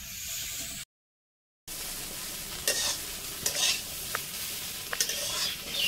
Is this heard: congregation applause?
no